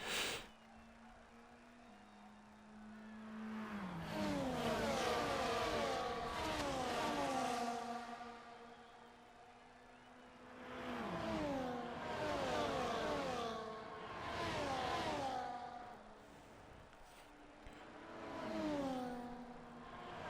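Race cars in a sim racing game on a Las Vegas circuit, engines repeatedly revving up through rising gear pitches in several waves, moderately distant with lulls between bursts.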